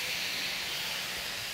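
Water poured into a hot wok on a low gas flame, where greens and vegetables are cooking in little oil, gives a steady broadband hiss that stays even and close throughout with no voices.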